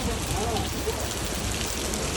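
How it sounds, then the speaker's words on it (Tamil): Heavy rain falls over floodwater running through the streets of Jeddah, Saudi Arabia, a dense and constant close-up hiss and patter with no gaps. "பாருங்க மழை வெள்ள தண்ணி தண்ணியை பாருங்க தண்ணி ஃபுல்லாக பயங்கரமாக ஓடுதுப்பா"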